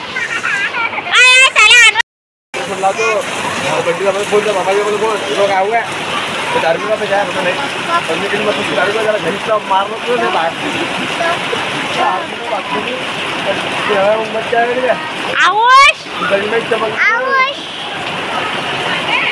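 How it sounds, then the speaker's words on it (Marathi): Rough floodwater rushing after heavy rain on Hartalika day, with girls splashing and playing in it; a continuous loud wash of water runs throughout, children's and adults' voices carrying over it, and a brief dropout near the start. "तुम्ही बघा कसं रफ असं पाणी जे आहे ते चालू आहे आणि मुली खूप मस्त एन्जॉय करत आहे पाण्यामध्ये"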